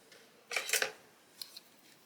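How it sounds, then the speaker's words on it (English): A few quick snips of scissors cutting through paper, close and faint, one burst of cuts followed by two lighter snips. "So I'm going to take my scissors"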